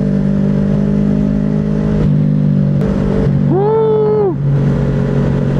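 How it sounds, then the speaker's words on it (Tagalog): A motorcycle with a loud exhaust drones steadily close by, then gives one sharp throttle rev that climbs and falls away, and a rider lets out a brief shout. "That's why you need to have a loud exhaust like earlier."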